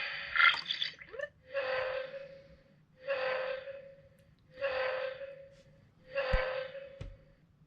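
Opening sound effect from a Superthings Kazoom Enigma Tower toy: a brief electronic flourish followed by four evenly spaced synthetic whooshing bursts, each ending on a steady tone, close and clear with no talk.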